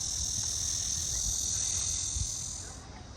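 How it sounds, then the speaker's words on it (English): Cicadas in a Beijing park after a typhoon drone in a loud, steady high-pitched buzz that holds for several seconds and then fades slightly near the end, with a low background rumble underneath. "You can hear the cicadas."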